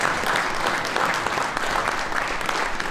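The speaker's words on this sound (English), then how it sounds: "if you'd please be kind enough to give the panel a round of applause" Audience applauding a panel at the end of a live show: steady, dense clapping holds at a constant level for the full three seconds with no voices breaking through.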